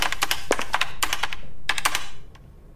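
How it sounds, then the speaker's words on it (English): Fingers tapping on a computer keyboard at an office desk, a quick irregular run of clicks in short bursts, close and crisp, stopping abruptly near the end. "sat behind a desk, tapping on a keyboard"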